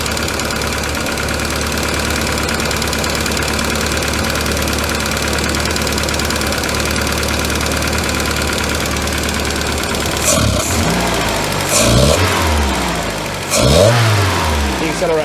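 A VW Scirocco MK2 engine with a slight bog idles steadily and loudly for about ten seconds, then rises and falls through two quick revs near the end.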